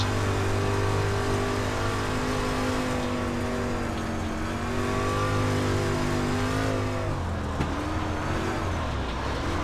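A street stock race car engine at Eldora dirt oval in iRacing drones loudly and steadily throughout, its pitch rising and falling as the throttle is worked, with no talk.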